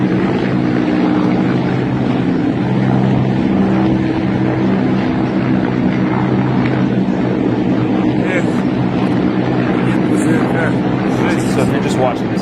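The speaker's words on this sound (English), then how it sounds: "there's like 15 of these helicopters flying over what is probably a densely populated Ukrainian area" Roughly fifteen helicopters fly low over a densely populated area of Ukraine during the Russian invasion, a loud, steady, continuous rotor and engine roar with a deep throbbing drone that never lets up.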